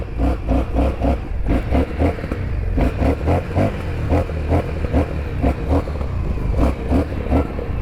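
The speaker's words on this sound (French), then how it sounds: "Il y a des retours à l'échappement." An Indian FTR Sport motorcycle engine revs hard and close in rhythmic bursts, its exhaust popping and crackling with backfires between throttle blips.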